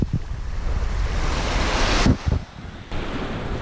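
Sea waves wash onto the shore at a Crimean beach in Yevpatoria, a steady roar mixed with strong wind buffeting the microphone and a brief dip in the surge.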